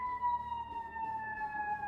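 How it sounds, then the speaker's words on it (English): A large fire truck siren passes by outside, a steady wailing tone holding at a moderate level and drifting slightly lower in pitch as it goes by, with faint road rumble underneath. "are those sirens ever going at it? I wonder what's burning down. I'm going a very large fire truck ablaze right on past me."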